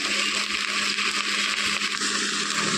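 Fresh, tender okra (lady finger) frying and being stirred in a pan for a Karnataka-style palya, a steady dense sizzle that stays loud and close throughout with no voices.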